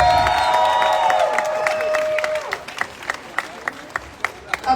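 Applause from a crowd at a university protest against mandatory masks and boosters fades into scattered individual claps, heard at a distance as a voice speaks over the start.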